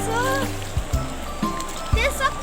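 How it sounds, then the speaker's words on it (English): Water from a small woodland waterfall flows and trickles steadily in the background, mostly covered by someone talking close by. "there is a small waterfall"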